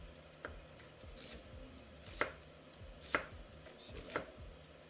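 A knife finely chops half a red onion on a board, with soft rhythmic cuts and three or four sharper knocks spaced about a second apart, faint and with no talking.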